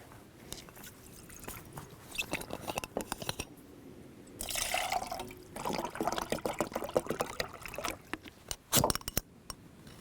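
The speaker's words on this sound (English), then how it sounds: "pour it into this filter." Hot water for trail coffee pours into a drip filter during a hike, a close splashing trickle that comes in uneven bursts, swelling in the middle and again near the end, with no talk.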